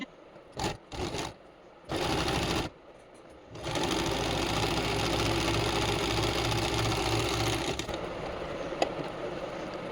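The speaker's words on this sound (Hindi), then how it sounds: "सिलाई करते हैं।" A sewing machine stitches strips of summer kurti fabric: a few short whirring bursts at first, then a long steady run of loud, even mechanical stitching that eases off near the end.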